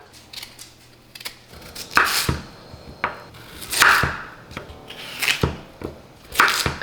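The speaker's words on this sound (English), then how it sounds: "I'm just gonna go ahead and peel this, kind of like a potato, and chop this up." Taro is peeled and chopped on a board, a series of crisp knife strokes and scraping peels in uneven rhythm, close and fairly loud.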